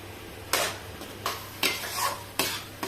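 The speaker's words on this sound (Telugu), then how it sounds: "ఇలా వేగిన తర్వాత మసాలాను వేసుకుందాం. ఈ మసాలాను బాగా వేయించుకోవాలి." Masala for chicken curry sizzles in a pan while being stirred, with several distinct scraping strokes of a spoon against the metal spaced about a second apart over a steady low frying hiss, close and alone.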